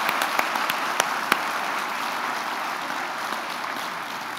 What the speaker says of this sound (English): Please join me in a round of applause for these amazing students and all of their achievements.